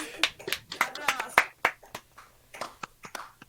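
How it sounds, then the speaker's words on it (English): A quick, uneven patter of close hand claps marks the end of a Twelfth Night performance, some beats doubled and clustered, moderately loud and with no voice over them. "Applause!"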